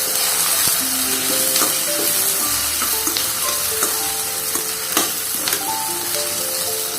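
Chopped tomato fries in hot oil in a pan, with a loud, continuous crackling sizzle close by and occasional light stirring clicks.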